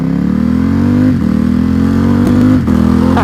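A Ducati XDiavel motorcycle fitted with a new quick shifter roars close and loud as it accelerates, its engine note rising, then briefly dipping twice during quick gear changes.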